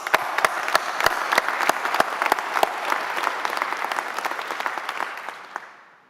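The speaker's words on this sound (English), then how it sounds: "Please give yourselves a round of applause." Audience applause at a graduation ceremony, many hands clapping in a dense, even patter with a few sharper individual claps, fading out toward the end.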